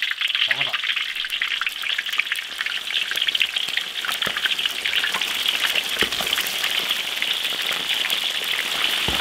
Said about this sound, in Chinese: 下锅炸。 油温提升了，